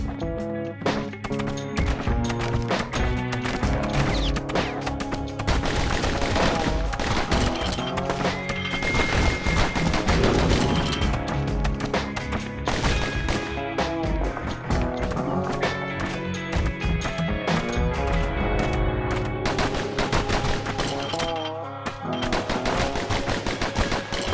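Pincushion enemies firing in the action game Bastion produce rapid bursts of gunshots and clattering impacts, repeated throughout over a bed of game music and effects.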